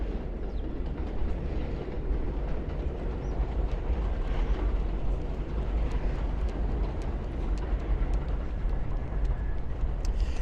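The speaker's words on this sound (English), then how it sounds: "And there goes a D train right there." An elevated D line subway train in Brooklyn, New York, rumbles past continuously, with a heavy low roar and faint clattering of wheels on track, loud and steady for the whole stretch.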